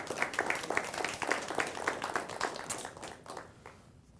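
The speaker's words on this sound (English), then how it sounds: "one more round of applause for all of our nominees" At a Teacher of the Year awards ceremony, an audience gives the nominees a round of applause. The dense clapping stays full for a few seconds, then thins and fades toward the end.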